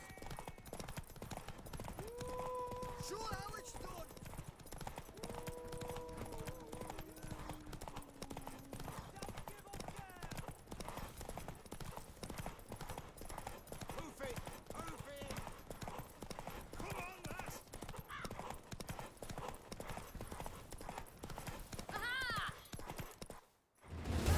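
Horse hooves pound in a fast, steady galloping rhythm during a race in the Witcher 3 video game, carrying on throughout under voices and tonal background sounds, with a short whinny near the end.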